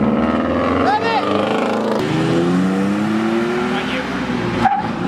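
A Mazda FD RX7 rotary engine revs hard while leaving a car meet, with rising and falling engine whines and tire noise close by. Bystanders shout and talk over it.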